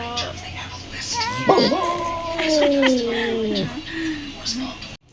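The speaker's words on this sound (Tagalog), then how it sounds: "Naririnig ko yung mga angil nyo" Several excited dogs waiting for food whine, yip and whimper in rising and falling tones, with short growls and barks at close range, while people talk and laugh throughout.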